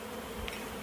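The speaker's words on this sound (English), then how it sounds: "All these bees farting around, flying around" Remnant bees buzzing and flying around a sealed hive hole, a steady low insect drone with a couple of brief louder passes close by.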